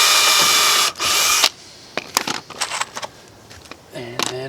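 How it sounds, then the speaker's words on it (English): A power drill bores a pilot hole into the corner support of a cedar raised garden bed, giving a loud whining burst of about a second, a short pause, another burst, then scattered clicks, clatter and a brief voice. "And then drill your pilot hole into the corner support."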